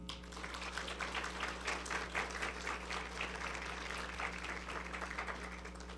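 An audience at a formal ceremony gives a round of applause, soft, fairly distant clapping sustained throughout over a steady low hum.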